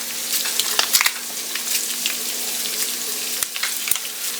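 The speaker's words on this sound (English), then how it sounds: "I'm gonna mix in with our ground beef" Ground beef with brown gravy mix from two packets sizzles steadily in a pan, with a continuous close frying hiss and a few brief scraping stirs near the start and end.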